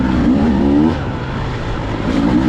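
A Beta dirt bike engine at a 2023 demo day revs loud and close, its buzzing two-stroke-style note climbing, easing, then rising again within a couple of seconds.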